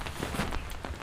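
Rain pattering on an opened umbrella outdoors during the rainy season, a steady, fairly quiet broadband hiss of drops with a few slightly louder taps, heard alone without talk.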